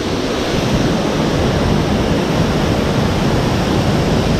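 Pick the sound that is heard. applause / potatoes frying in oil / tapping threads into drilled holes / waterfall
waterfall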